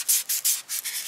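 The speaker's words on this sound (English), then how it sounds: "So I have some 600 grit... Tamiya's sanding sponge." A 600 grit Tamiya sanding sponge rubbed over a plastic model kit part, five quick, close, soft scratchy strokes in a steady back-and-forth rhythm.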